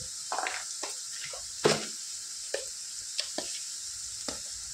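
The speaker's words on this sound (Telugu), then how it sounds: "ఇలాగ ఒక 5 minutes ఫ్రై చేసుకుందాం ఆనియన్స్" Onions frying in a pan for a meal maker tomato curry, heard as a faint background sizzle broken by several sharp stirring clinks and scrapes of a spoon against the pan, with no talk.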